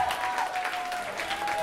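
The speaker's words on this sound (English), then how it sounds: "Give a round of applause to them." Wedding guests clap together for the couple during a best man's speech, a fairly soft, even patter of applause from a roomful of people, with a faint steady tone running underneath.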